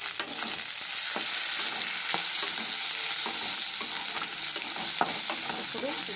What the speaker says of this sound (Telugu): ఇవన్నీ ఒక్కోదానిపైన ఒకటి ఎందుకు వేస్తున్నా అంటే తొందరగా ఫ్రై అవుతుంది